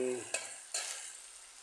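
Two soft scraping strokes of a spoon stirring curry in a pan over a faint sizzle, close by.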